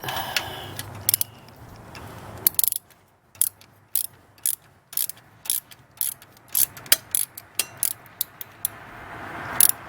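A hand ratchet tightens a bolt with new washers on a Mitsubishi Galant VR4 during hose and cam work, giving a long run of sharp, close clicking strokes in quick irregular bursts with no talk.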